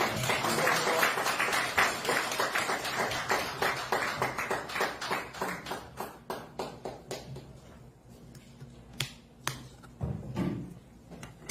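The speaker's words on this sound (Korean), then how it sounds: "뜨거운 박수 부탁드립니다." Audience applause at a book concert for a novel, closing an author talk: dense clapping fills the room, then thins into scattered individual claps before fading out near the end.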